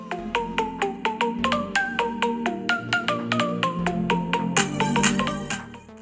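A small Bluetooth speaker plays a bright, plinking electronic melody with a steady bass line, clear and continuous with no talking.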